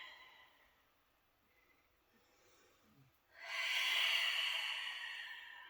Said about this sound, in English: You just breathe at your own speed.